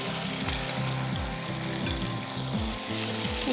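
Shrimp fry in a hot pan over high heat, making a steady close sizzle with repeated stirring and scraping strokes throughout and no voices.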